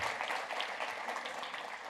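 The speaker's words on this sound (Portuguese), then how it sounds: "Uma salva de palmas para Jesus." A church congregation claps together in steady, moderately loud applause that carries evenly throughout without a break.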